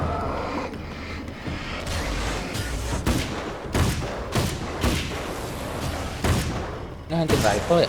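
Hunting rifle fire in the video game Alan Wake's American Nightmare, a series of loud, sharp shots with booming tails at irregular intervals, mixed with game sound effects and a voice talking.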